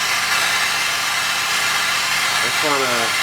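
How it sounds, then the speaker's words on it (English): An exhaust fan runs at a jeweler's bench while a Southwestern-style ring with a faceted gemstone is being made, giving a steady, close whooshing hum. A brief tonal squeal rises near the end. "turn on the exhaust fan real quick."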